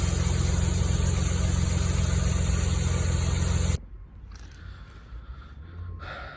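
A high-mileage car engine with about 180,000 miles idles loudly and steadily with a constant low hum, then cuts off abruptly, leaving quiet background noise.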